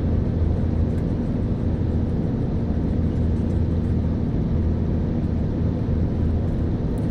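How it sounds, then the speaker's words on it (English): A Cirrus SR20 piston engine roars at full power during a short-field takeoff in the Torque Sim flight simulator, a loud, steady broadband drone that holds even throughout with no speech. "Let's do a short field takeoff here."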